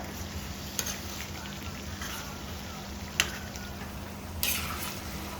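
Masala-marinated fish is stirred in hot oil in a pan, giving a quiet, steady frying sizzle with a few sharp metal clinks of the spoon against the pan, close and without talk.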